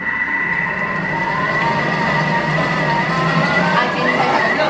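A blender at speed 7 blends banana and blueberry, its motor holding a loud, steady whine with a tonal hum for the whole stretch, close by and unbroken.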